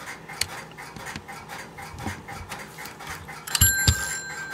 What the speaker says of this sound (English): I will now demonstrate a two-wire ringer.